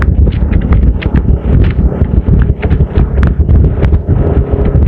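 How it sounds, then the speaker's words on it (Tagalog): Strong wind buffets the microphone during a race on the CLLEX expressway, a loud, continuous rumbling roar with uneven gusty surges throughout. "napakalakas ng hangin"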